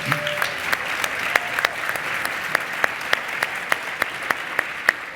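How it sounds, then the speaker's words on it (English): An audience claps in applause at a school event about learning and career and technical education. The clapping is sustained and evenly dense, with a few sharper claps standing out. No one speaks over it. "Let's give them a big round of applause."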